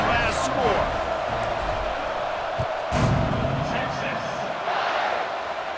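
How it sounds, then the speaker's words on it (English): A stadium crowd in EA Sports College Football 26 buzzes and roars in a steady, dense wash after a score, heard under a commentator's talk. "this crowd is buzzing after that last score."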